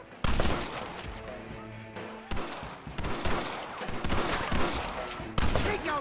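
A heavy shootout in Red Dead Redemption, with overlapping rifle and pistol shots cracking in a dense, continuous barrage, loud and near, with several sharp bursts standing out.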